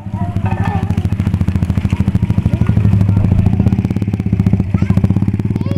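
A motorcycle engine rumbles loudly nearby on a street where children play tumbang preso, its rapid throbbing swelling as it passes, with faint voices in the background.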